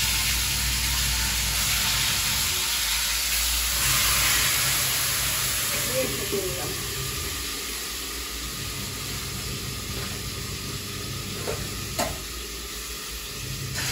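Chicken pieces dropped into a pan with bay leaf after potatoes are fried, giving a steady close hiss and sizzle with stirring scrapes throughout, while someone talks over it.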